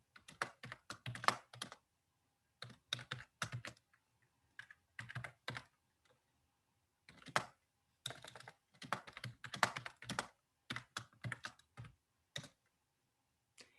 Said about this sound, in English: I'm just trying to type in some definition for you to